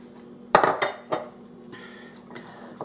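Bowls and dishes handled in a home kitchen while making brownies: a sharp clatter of ceramic, then a few softer knocks and light clinks spaced over a couple of seconds, close and fairly quiet, with no talk.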